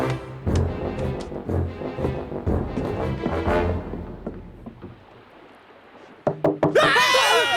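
A few sharp knocks on a door in an animated pirate cartoon come in a quick cluster near the end, after a stretch of swelling musical score and a brief quiet gap.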